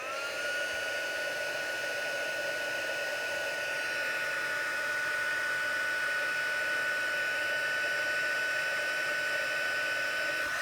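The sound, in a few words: heat tool melting white craft ink on card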